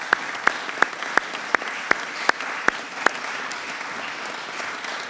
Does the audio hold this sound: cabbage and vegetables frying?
no